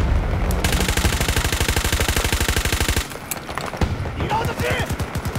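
Rapid automatic gunfire in Battlefield 2042 rattles loud and close in a steady burst, then breaks off and resumes in choppier bursts with scattered shots and clatter.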